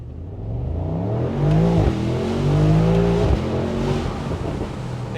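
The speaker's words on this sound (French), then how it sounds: "t'entends le bruit des turbos?" Mercedes-AMG sports car pulling away in Paris streets without launch control, a loud sustained engine roar rising in pitch with turbo whir, close and continuous with a brief shift dip.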